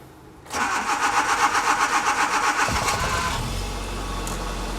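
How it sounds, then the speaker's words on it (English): A car engine cranks with a rhythmic whirring starter for a few seconds, then catches and settles into a low, steady idle. "Now you want to start the engine up."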